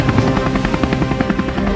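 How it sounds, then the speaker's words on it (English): Black helicopters pass overhead with loud, steady rotor chopping and a deep engine drone that fills the whole stretch without a break, with no voices over it. "Black helicopters, they're coming over."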